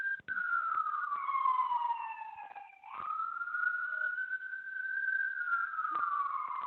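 A single emergency siren wailing steadily, its pitch sweeping slowly down, briefly breaking, then rising and holding, loud and continuous throughout.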